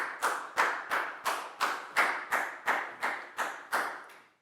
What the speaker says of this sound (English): a big round of applause for Lakgao